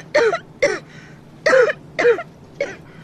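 Coughing in a domestic scene, five harsh, throaty coughs come in two close bursts, near and clear with no talk over them.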